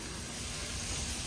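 Steaks sizzle in a hot pan with a loud, steady, close hiss that runs unbroken, no voices over it.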